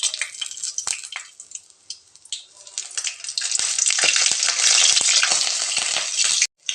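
Whole cloves, cinnamon and bay leaf drop into hot oil for mint pulao and fry with a loud, crackling sizzle that swells steadily and holds near and strong, with a few soft clicks of spices landing.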